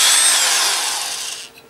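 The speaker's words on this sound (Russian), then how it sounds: "Сверлю отверстие диаметром 6 мм." A power drill bores a 6 mm hole into a device housing, giving a loud, continuous high-pitched whine and grinding that falls slightly in pitch before the bit breaks through and stops.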